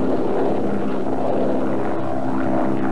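Propeller fighter planes of the First World War droning overhead, a steady loud engine roar with a throbbing tone that holds throughout without any speech.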